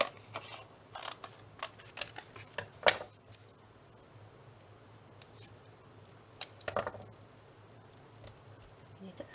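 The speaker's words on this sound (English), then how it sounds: "To cut a strip off here." Scissors snipping a strip off a stencil sheet, a series of quick crisp cuts and clicks at close range, with a quiet voice talking over parts of it.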